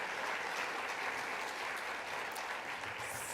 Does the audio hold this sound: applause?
yes